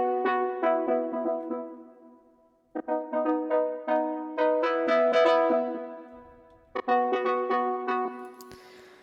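A synth melody from a track plays bright, plucky notes in flowing phrases with short pauses between sections, clear and moderately loud with no voices.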